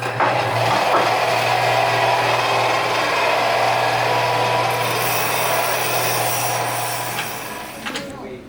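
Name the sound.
grinding an object by hand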